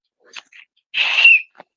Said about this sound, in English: I have my Tiffany whistle